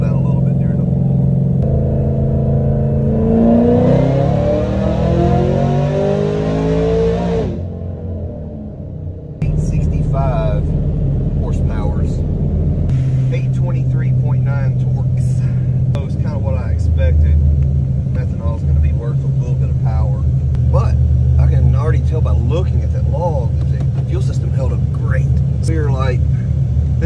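An LT4-powered car on a dyno, its engine rumbling and then climbing in a long rising rev before dropping off and settling into a steady roar, with someone talking throughout.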